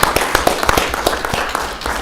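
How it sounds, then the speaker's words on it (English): Meeting attendees at a town council retreat give a short round of applause, scattered hand claps from a small group close by, lasting about two seconds. "give them a round of applause for helping us out"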